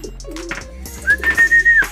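A racing pigeon coos at the loft on arrival, soft close murmuring calls, followed by a thin sustained whistle near the end.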